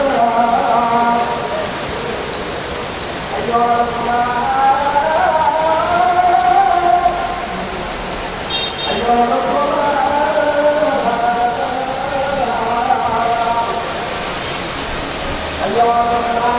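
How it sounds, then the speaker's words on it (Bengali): Heavy rain from a storm pours down in a steady, dense roar on a shop during Pohela Boishakh while a person talks over it nearby. "অনেক জোরে বৃষ্টি নামছে এখন"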